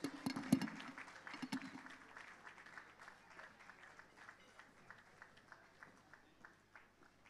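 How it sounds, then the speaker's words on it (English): An audience at an anniversary dinner claps steadily, a faint, distant patter that opens with a few sharper claps and then settles into an even, rhythmic pulse. "keep clapping"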